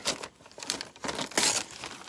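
Embroidery stabilizer is torn away from a machine-stitched bookmark and crumpled by hand, a run of close crinkling and ripping bursts with short pauses between them.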